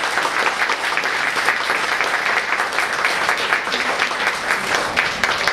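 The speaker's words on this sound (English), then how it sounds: "Let's give him a round of applause." An audience at an evening talk by a performer portraying the Titanic's second officer gives a sustained, even round of applause, dense and close throughout with no voices over it.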